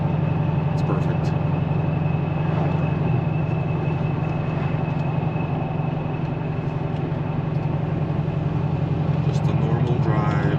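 A 7.3L Godzilla-swapped, Whipple-supercharged Ford Crown Victoria cruising on a normal drive, steady engine drone with a constant supercharger whine, continuous and close, with a voice talking over it.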